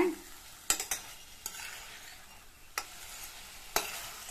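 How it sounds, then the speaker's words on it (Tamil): Mutton pieces sautéed in masala over a high flame, a steady sizzle broken by several sharp scraping clacks of a spoon stirring against the pan, close and clear with no voices. "ஹை ஃப்ளேம்ல வச்சு ஒரு 2-3 நிமிஷத்துக்கு இந்த மசாலாவில் இந்த மட்டன் வந்து நல்லா மிக்ஸ் ஆகுற மாதிரி இந்த மாதிரி நல்லா வதக்கி விட்டுக்கங்க"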